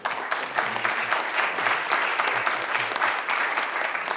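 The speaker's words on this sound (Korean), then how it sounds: "강대진 강사님께 큰 박수 부탁드립니다" Steady applause from a seated forum audience thanking a lecturer, many hands clapping together at an even, sustained level with a few faint voices underneath.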